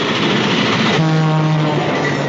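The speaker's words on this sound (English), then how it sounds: "We'll all be killed! Look out for the train, Inspector!" A cartoon train roars past, loud and close, with a steady rumbling clatter and a long whistle blast sounding through the middle, with no voices over it.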